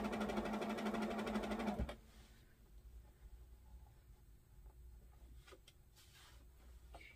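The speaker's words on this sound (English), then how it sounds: "I try to sew all the way to 1/4 inch and then just fold it just like you would another, any other binding on a corner." A sewing machine runs briefly, stitching binding on the corner of a Christmas tree skirt, a close steady whir for about two seconds, then stopping into quiet with a few light handling clicks.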